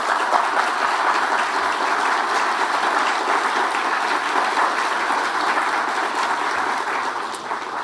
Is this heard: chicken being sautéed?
no